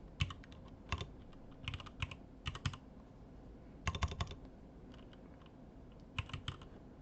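Soft bursts of keystrokes on a computer keyboard come in short clusters separated by pauses, with close, quiet clicks over a faint background hum and no voices.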